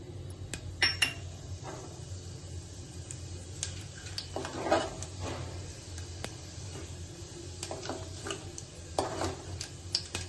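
Mustard and cumin seeds crackling in hot oil for a tempering while cooking Katachi Aamti, faint sizzling and scattered pops with occasional clinks of a utensil against the pan.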